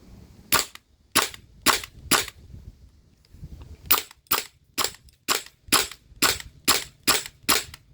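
HPA airsoft rifle firing in semi-auto: sharp, loud single shots, four spaced pops, a short pause, then ten more at a fairly steady pace.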